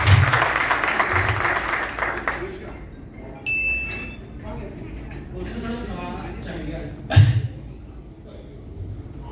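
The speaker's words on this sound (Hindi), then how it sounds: "एक बार जोरदार तालियां हमारी टीम के लिए" An audience at a training program in a hotel in Jammu claps briefly for the team, then the clapping fades into room murmur with a few clinks and a spoken voice.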